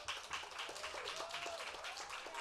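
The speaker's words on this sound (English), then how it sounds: "please applaud" Audience applause for speakers being called up at a women's leadership event, a faint, steady smattering of clapping hands with a rhythmic patter throughout.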